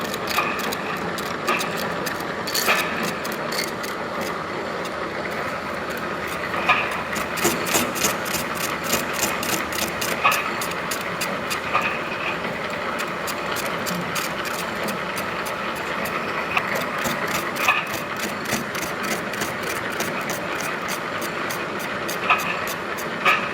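A milling machine cuts an external keyway, its steady mechanical grinding and rhythmic clatter running close and continuous throughout, with the cutter chattering against the metal at regular intervals.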